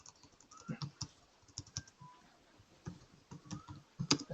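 Typing on a computer keyboard while entering programming code, irregular bursts of close clicking keystrokes with brief pauses, no talking.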